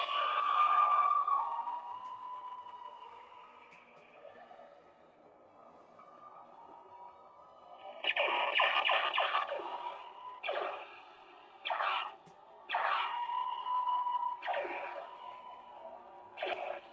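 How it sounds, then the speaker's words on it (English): Lightsaber soundboard playing a sound font modeled on an alien spaceship's warning signal, a warbling electronic tone that fades and then returns as a run of pulsing, repeated bursts, moderately quiet with no voices. "that sound font is based off of the warning signal from the alien spaceship"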